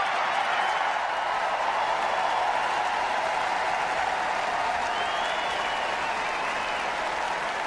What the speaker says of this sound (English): you just got the applause from that rather than the actual words of the AFL-CIO's leader